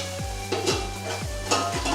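Black pepper and cloves fry in a pan while a utensil stirs them, giving a constant loud sizzle with four rhythmic scraping strokes against the pan, up close.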